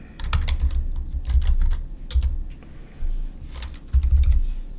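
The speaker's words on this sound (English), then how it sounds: "We would type our question" Quick bursts of clicking keystrokes on a computer keyboard come as a quiz question is entered, close and clear, in uneven runs with short pauses between them.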